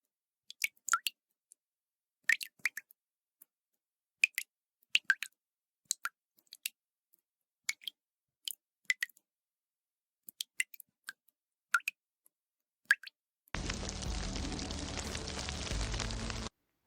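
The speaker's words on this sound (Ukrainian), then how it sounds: "Крапання бурулюк." Single water drips from melting icicles fall one by one at an irregular, slow pace, crisp and close against silence, followed by a burst of steady hiss at the end.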